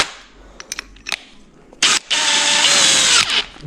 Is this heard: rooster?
no